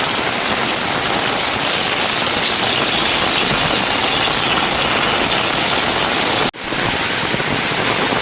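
Heavy rain pours down steadily, a dense, loud wash of noise with no letup, then cuts off abruptly for a moment before resuming.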